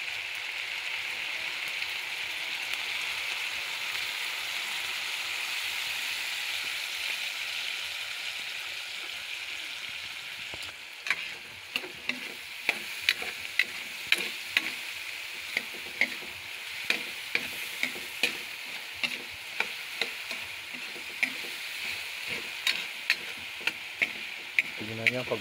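Pork sizzles in a hot pan after soy sauce goes in for tokwa't baboy with tawsi, a steady hiss joined by a run of sharp rhythmic scraping stirs against the pan, close and loud.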